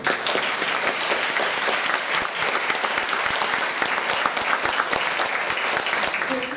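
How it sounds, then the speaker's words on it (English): Audience applause from a crowd, dense steady clapping that fills the whole stretch at an even, loud level with no voices over it. "I think we should all give John a big round of applause."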